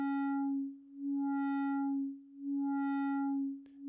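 Ableton Operator synth playing a steady sine tone whose volume is pulsed by a sped-up LFO, swelling and dipping in a smooth regular rhythm about every second and a half, with no talk.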